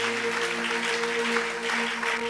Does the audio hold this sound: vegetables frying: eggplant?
no